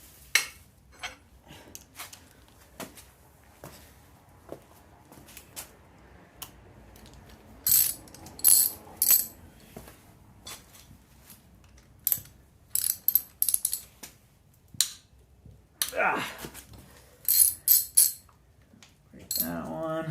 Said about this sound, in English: Let's just take off these 3 bolts.